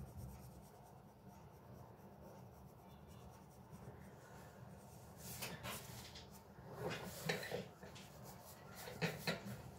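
A pencil shading a sketch on paper: soft, continuous scratchy rubbing, faint at first and then louder as quicker back-and-forth strokes come in, close up and with no voices.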